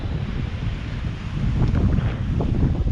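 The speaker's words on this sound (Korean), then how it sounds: "이렇게 등대가 있고 파도가 넘실대는 터키에도 이렇게 파도가 치는 곳이 있다는 것을 보여드리고 있습니다" Ocean waves and strong wind on the Turkish coast beside a lighthouse, heavy wind buffeting the microphone in a continuous roar as surf surges and builds louder midway.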